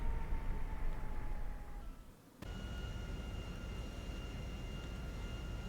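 A business jet in GTA Online roars with steady engine noise that dips for a moment and then resumes at a changed pitch, as reverse thrust and the air brake engage, with no talking.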